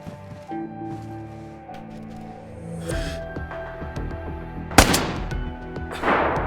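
Gunfire rings out in the survival game DayZ during a fight on a hard PvP server. Several sharp shots are heard, with one loud, bright crack near the end, over a low background hum.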